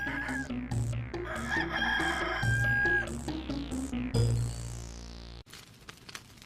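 A rooster crows repeatedly amid busy, loud layered sound in an animated fairytale, with a brief sharp break near the end before a quieter, noisier tail.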